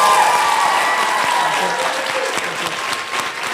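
Loud, sustained applause from a conference audience, dense clapping that stays steady and fades only slightly.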